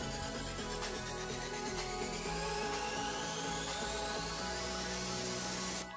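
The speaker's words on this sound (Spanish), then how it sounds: "realice un orificio a 2 centímetros sobre la vena donde se colocará la hoja fija, con una broca de 316" Power drill boring a hole with a 3/16 bit into an aluminum sliding-window frame, a steady high whine that holds throughout and rises slightly in pitch before cutting off at the end.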